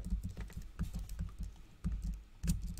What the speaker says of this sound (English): I'm typing when I shouldn't be.